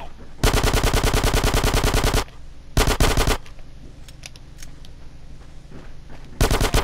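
Automatic gunfire in GTA San Andreas, loud and close in long rapid bursts: one runs nearly two seconds, a short second burst follows, and after a lull another begins at the end, with softer game ambience between.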